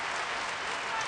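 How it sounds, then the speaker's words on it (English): Applause from the crowd at an NCAA women's tournament basketball game between Iowa and Marist, a dense steady wash of clapping heard briefly at moderate level. "Sam Logic leads the game to a big round of applause."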